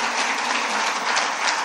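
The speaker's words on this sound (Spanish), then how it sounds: "¿Quiere dar un aplauso al Señor?" A church congregation claps together in a dense, steady burst of applause that fills the room, continuous and loud throughout with no voices standing out.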